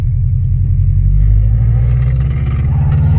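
Subaru BRZ engine held on a two-step launch limiter, a loud, continuous low rumbling drone with rough clattering pulses, steady and close throughout with no speech.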